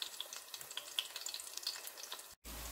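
Two medium onions browning in two spoons of oil in a pan, a quiet steady sizzle with small pops, followed by a brief cut and a change in background noise.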